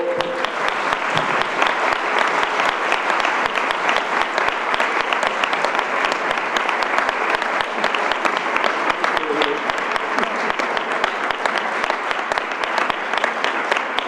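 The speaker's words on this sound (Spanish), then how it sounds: "Un aplauso, por favor." Sustained applause from an audience at a festival proclamation event in Elche, dense steady clapping that continues evenly throughout without pause.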